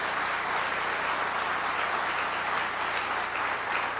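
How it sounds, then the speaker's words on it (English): Audience applause at a mosque gathering in Los Angeles, a steady wash of clapping that holds evenly for about four seconds without a break or fade. "Let's give them all a round of applause."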